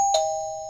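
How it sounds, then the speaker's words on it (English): ieGeek wireless video doorbell chime ringing indoors, a clean two-note electronic ding-dong, close and clear, the second tone ringing on steadily. "So you hear that's the tone of the bell."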